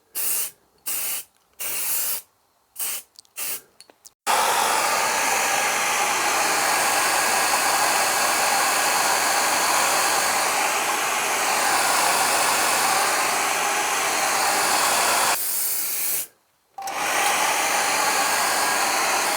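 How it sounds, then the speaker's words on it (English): A hair dryer roars loud and close as a steady, broad hiss for most of the run, cutting in and out in short bursts at the start and stopping briefly near the end, in a workshop during a Proton Saga Iswara car restoration. "Is that your hairdryer?"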